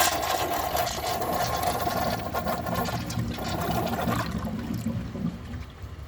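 A faulty 1996 Crane Hymont toilet runs continuously, a steady hiss of flowing water with a faint mechanical hum that weakens and thins out toward the end.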